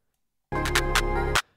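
Short clap roll programmed in FL Studio on a regular grid without triplets: a quick, loud cluster of about four evenly spaced clap hits lasting under a second, heard alone.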